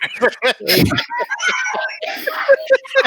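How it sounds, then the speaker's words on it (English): A child yells and shrieks somewhere in a home during a casual livestream podcast, rising into one loud burst and then carrying on more faintly as adults chat over it. "I don't know if y'all can hear my kid yelling in the background."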